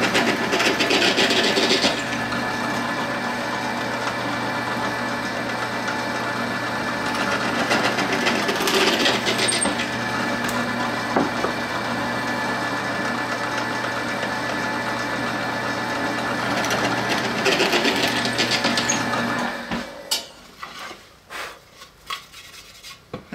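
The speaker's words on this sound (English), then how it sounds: "I'm gonna take this whole assembly over to the scroll saw, and I'm gonna cut it all out." Scroll saw cutting through plywood with a fast, buzzing reciprocating rasp that runs steadily for about twenty seconds, close and loud, then stops as the motor winds down and clatters.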